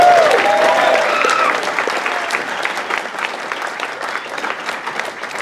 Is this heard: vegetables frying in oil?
no